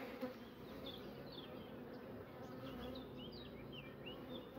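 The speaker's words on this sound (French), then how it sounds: "Les abeilles." Honeybees buzzing steadily at an open hive during a spring inspection, a dense continuous drone with overlapping high wing whines passing close by, no talking.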